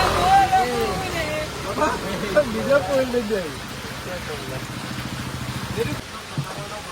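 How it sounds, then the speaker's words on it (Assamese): Rain falls steadily in the background while several people talk and chatter nearby. "আইও পানী পৰিছে"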